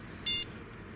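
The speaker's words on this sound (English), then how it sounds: "We're going to have a beep in the background." A single short electronic beep, clear and fairly close, sounding once in the background by a lake.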